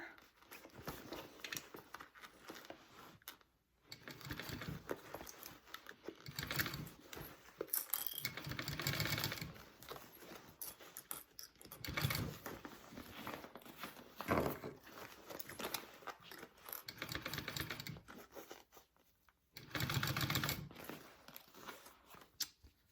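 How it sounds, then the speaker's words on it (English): A sewing machine stitches a gusset onto a game bag, running in steady bursts with brief pauses between passes, close and fairly loud. "I finished sewing that part on to my gusset"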